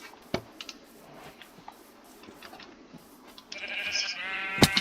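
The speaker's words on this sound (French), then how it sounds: "ici j'avais assassiné des moutons" Sheep bleat in a video game, a couple of short calls rising near the end over a steady ambient bed with scattered clicks and ticks.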